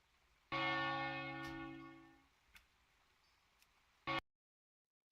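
The Stormwind city bell in World of Warcraft tolls once, loud and close, with a long ringing decay that fades over about two seconds, followed by faint clicks and a brief burst of game noise, with no voices.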